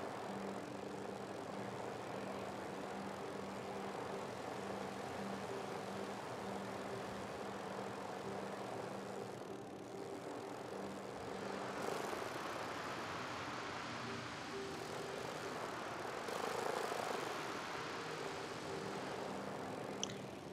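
A video game helicopter in Lost Ember drones steadily with a constant rotor and engine hum, fairly loud and unbroken, swelling slightly toward the end, with no voices over it.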